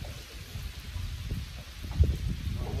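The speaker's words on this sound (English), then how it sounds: "And you can hear it. Good old rain." Rain falls outdoors during a stormy spell near a bridge on a crappie fishing trip, a soft, steady hiss with faint low rumbling beneath it.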